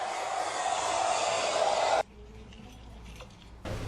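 A hair dryer blows loud and steady at close range, then cuts off abruptly about halfway through, leaving quiet room noise before the airflow starts up again at the very end.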